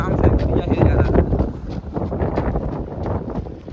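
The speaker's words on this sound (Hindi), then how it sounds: "बहुत हवा चल रही है" Strong wind buffets the microphone during an outdoor 5 km running test under the midday sun, a steady, loud rumbling roar throughout with breathing and faint movement sounds, and no clear speech.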